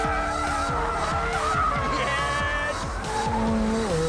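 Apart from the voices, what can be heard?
McLaren 720S drifting with tires squealing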